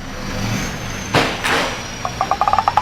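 A car is rocked by hand at the rear wheel to test its worn original shock absorbers, giving a couple of dull thumps and creaks followed by a quick series of sharp rhythmic rattling knocks near the end.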